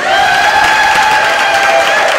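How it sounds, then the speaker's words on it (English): Loud, dense applause from a large crowd at a Pride flag raising and Pulse memorial, continuous throughout, with a steady tone ringing underneath. "How about one more applause for me?"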